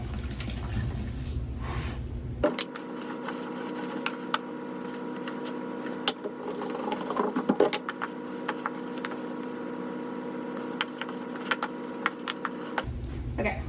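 Plain tap water poured from a container in a continuous, close stream lasting about ten seconds, with occasional splashes and small clinks, starting and stopping abruptly.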